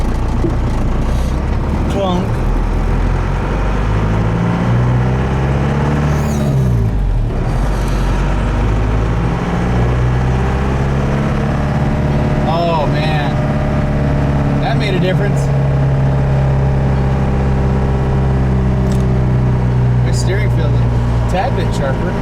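A lifted Ford truck drives around town, its engine holding a steady low drone that rises and falls with a few shifts, heard close from the cab under almost constant talking.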